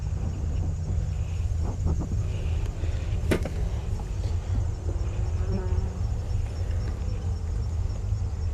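Honey bees buzzing around an open hive during an autumn inspection, a steady drone of wingbeats close to the microphone with a brief bump partway through and no speech.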